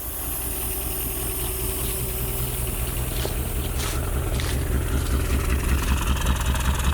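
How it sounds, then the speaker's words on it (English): Long-seized Ford Maverick engine idling after 26 years without running, a steady close rumbling idle with a faint uneven rhythm, continuous and alone with no talk. "But it's idling."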